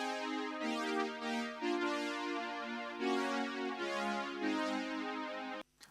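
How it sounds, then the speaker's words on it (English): An overdubbed Roland JX8P synthesizer part plays sustained chordal tones with swelling, shimmering changes every half second or so, loud and alone, cutting off abruptly at the end. "So I overdubbed a second JX8P that sounds like this."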